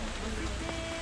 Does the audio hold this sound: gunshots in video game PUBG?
no